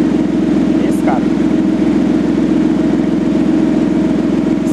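A car engine idles steadily at close range during a sensor diagnosis, a loud, continuous low hum with no breaks or changes in pace.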